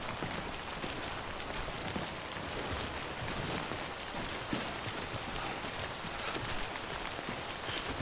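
Steady rain from the timefall in the video game Death Stranding pours down as a dense, even hiss of drops striking surfaces, constant and close throughout with no voices.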